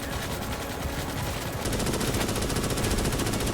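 Rapid automatic gunfire from the Starship Troopers: Extermination video game fires in dense, continuous bursts that grow heavier partway through, loud and close.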